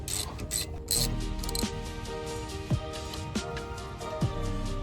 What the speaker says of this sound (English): Get it started, finger tight, socket, tighten her up.